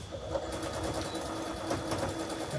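A longarm quilting machine stitches a quilt on its frame with a fast, steady mechanical pulsing, close and continuous, with a faint motor hum underneath.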